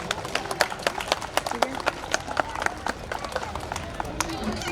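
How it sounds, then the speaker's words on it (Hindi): Scattered clapping from a small group at a lamp-lighting ceremony for an Ambedkar Jayanti event, uneven sharp claps coming in quick succession, with people talking underneath. "तालियों से स्वागत किया जाए"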